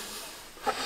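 Aerosol spray can hissing onto seized screws on a VW Golf TSI, a steady faint airy spray rising into a brief louder burst near the end.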